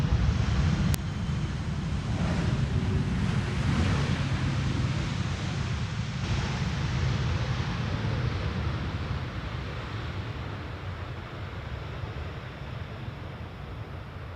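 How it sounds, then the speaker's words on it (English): A KLM Airbus A330-200 airliner lands at Amsterdam on runway 18R, its broad, steady engine roar rumbling loud and close before slowly easing off as the jet rolls away. "that was KLM flight 672, an A330-200"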